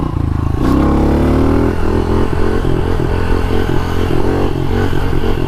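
A motorcycle pulls hard in third gear, its engine note climbing steadily under load, loud and close with a rhythmic pulsing drone and a brief gear-change blip near the start.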